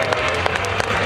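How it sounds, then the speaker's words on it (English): Audience applause for stunt riders at an extreme stunt show arena, a brief, dense burst of crowd clapping at moderate distance. "Let's give both riders a round of applause for their amazing trick"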